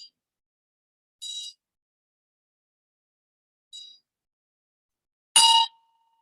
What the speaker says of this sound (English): Follow the sound of the bell.